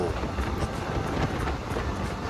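Rapid train No. 135 running from Bangkok to Ubon Ratchathani, heard as a steady, loud rumble of rolling wheels and carriage noise with faint rhythmic rail clatter and some wind buffeting, without talk.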